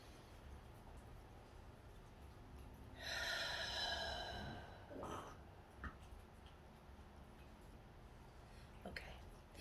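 A slow, deep inhale through the nose during a breathing exercise swells for about two seconds, followed by softer breaths and small mouth sounds at low level.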